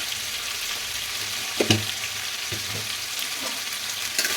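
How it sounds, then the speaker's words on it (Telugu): Sambar simmering in a pot with salt and turmeric just added is stirred, giving a steady soft sizzle with a few brief spoon knocks and scrapes against the pot. "యాడ్ చేసి మొత్తం బాగా కలుపుతున్నాను"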